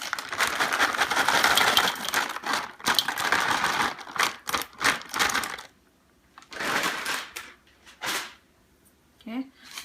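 Dry, crunchy Indian chevro snack mix gets stirred and tossed, making bursts of rattling, crackling rustle that come and go in uneven waves, with some talking between them.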